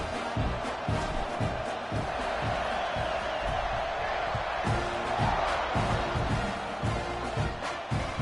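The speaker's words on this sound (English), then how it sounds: "this crowd is buzzing after that last score" A stadium crowd in a college football video game keeps up a loud, constant roar and buzz after a score, with scattered shouts and thumps rising through it, and a commentator talking over the noise.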